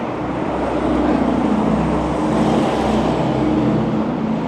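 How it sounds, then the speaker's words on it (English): Steady roar of downtown street traffic in Billings, Montana, with engines rumbling and cars passing close by, continuous and fairly loud, no voices. "get rid of some of this traffic sound"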